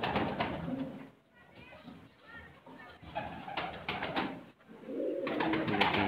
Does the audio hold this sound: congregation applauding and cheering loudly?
no